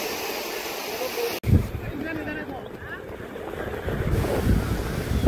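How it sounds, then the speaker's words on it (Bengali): Sea waves washing onto a beach at the seaside, heard as a steady rushing surf behind heavy wind buffeting on the microphone, with a sudden dropout and a swell of louder rumbling near the end. "আর আপনাদের ভাই এখানে দাঁড়িয়ে সমুদ্র উপভোগ করতেছে"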